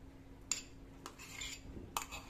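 A utensil clinks and scrapes against a bowl while mixing moka cake batter with butter, a few sharp metallic taps standing out over soft stirring, close and fairly quiet.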